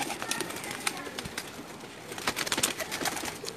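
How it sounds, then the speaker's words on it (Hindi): Lakha pigeons cooing softly in a brief, faint stretch, low murmuring coos over a rustling background, with a few light clicks and scuffles. "मैं उम्मीद करूंगा कि आपको पसंद आएंगे ये लाखे कबूतर"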